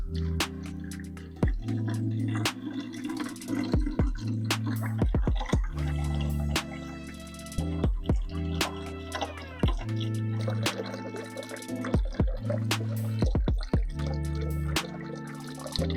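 Water splashes and drips steadily over a low hum as a planted aquarium is drained for a water change, with repeated sharp clicks and knocks throughout.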